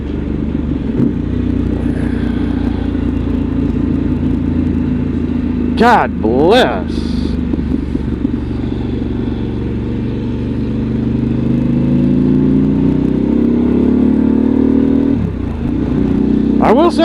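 A Harley motorcycle cruising on a November road trip gives off a steady engine drone and rumble with wind noise, while a rider speaks briefly over it.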